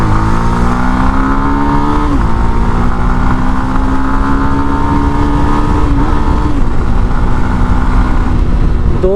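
A Yamaha FZ-S V3 motorcycle accelerates hard up to 85, its engine note climbing steadily through several gear changes, with short dips between gears and constant loud wind rush over the whole run.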